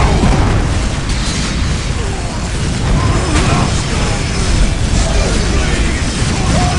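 Explosions in the real-time strategy game Dawn of War, a dense, continuous roar of booms and rumbling blasts that stays loud throughout without easing off.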